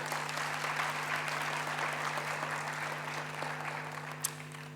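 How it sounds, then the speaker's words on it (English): Steady applause from a graduation ceremony audience honouring the 2024 graduates, a dense, even wash of clapping held at a moderate distance with a low hum underneath and one sharper clap near the end. "So I'd really like you to give a warm round of applause to our graduates of 2024"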